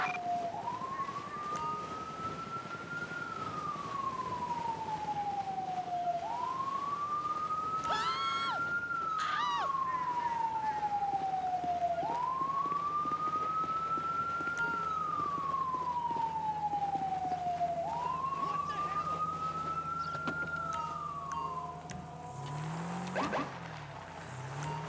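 An emergency vehicle siren from GTA5 with the LSPDFR police mod wails in four slow rising-and-falling sweeps, loud and continuous, before cutting off near the end.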